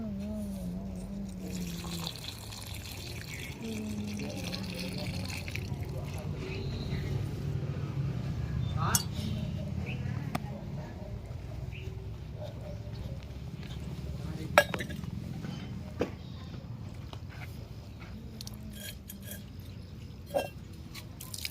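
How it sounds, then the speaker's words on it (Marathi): Water splashes and trickles as a vessel is filled for worship in a rural farm household, mixed with clinks of metal pots and utensils and scattered sharp knocks, with faint background activity. "देवाला पाणी भरून घेऊ।"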